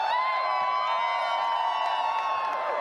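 An arena crowd on grand finals day of a Dota 2 tournament, The International 2022, roars and cheers steadily in a bright sustained wash of voices that fades slightly toward the end.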